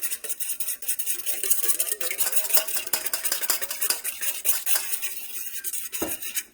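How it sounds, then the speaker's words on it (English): Whisk beating a French toast egg mixture with vanilla and cinnamon in a bowl, rapid continuous clicking and scraping against the sides, close and steady, with a final heavier knock at the end and no talk. "And then we're just going to whisk it together."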